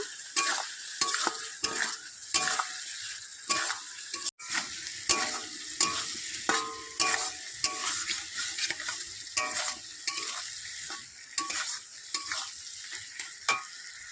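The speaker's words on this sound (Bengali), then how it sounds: "এবার আমি ডিম আর আলু দিয়ে দেবো। আবার একটু ভালো করে কষে নেব।" Spiced fish roe sautéing with egg and potato in a pan: continuous sizzling broken by repeated scraping strokes of a spatula and one sharp knock, close up, no voices.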